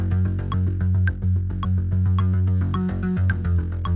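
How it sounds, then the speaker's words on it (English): A looping preset synth bass sequence with steady, pulsing notes repeating in a tight rhythm, loud and upfront with bright plucky accents on top. "basically I think I just used a preset sequence"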